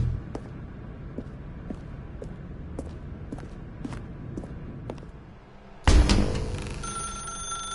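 A telephone rings in The Stanley Parable in a steady run of short bursts, each one a bright metallic trill, until an abrupt louder clatter cuts the ringing off near the end.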